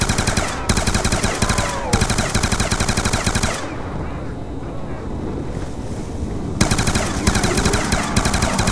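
Rapid automatic gunfire from a weapon in the Nuketown Zombies mode of Call of Duty Black Ops 2, loud dense bursts that stop for a few seconds of quieter game noise before resuming.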